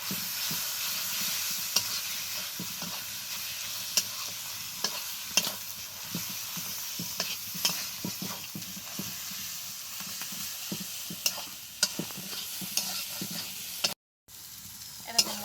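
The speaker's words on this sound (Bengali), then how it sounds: "এবার এই মশলাটাকে খুব ভালোভাবে আগে কষিয়ে নেব" Spice masala with chilli powder and turmeric sizzles in a pan while a spoon stirs it, leaving repeated scraping clicks over a continuous frying hiss, with no voices.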